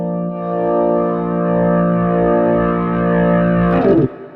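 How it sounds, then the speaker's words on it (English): A sustained worship organ chord with gritty, distorted tone holds steady for several seconds before cutting off abruptly. "distortion is going to add warmth and grit"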